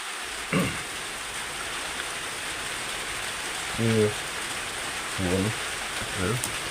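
Rain patters steadily on a low roof, a continuous broadband hiss with a few brief louder bursts from voices or knocks standing out over it.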